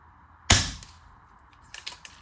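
Single sharp rifle shot fired at a target outdoors in light wind, a loud crack with a short decaying tail, followed by faint distant pops.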